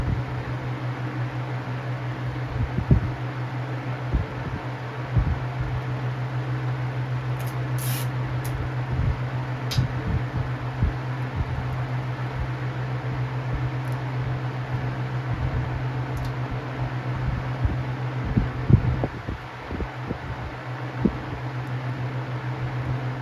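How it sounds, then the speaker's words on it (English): A 1998 Weatherworks DB-888 high velocity fan runs with a steady low whirring drone, broken by irregular rattling knocks, louder in places near the end. "There's the rattle. Sounds like a high velocity fan."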